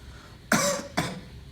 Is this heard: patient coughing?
yes